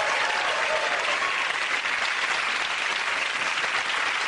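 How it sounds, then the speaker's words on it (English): A studio audience at a comedy panel show claps loudly and densely. The applause holds steady and unbroken from start to finish, with no voices over it. "Give a round of"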